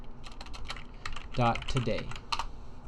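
Typing Python code on a computer keyboard: a quick run of light key clicks under a voice, with a brief pause in the middle of the burst.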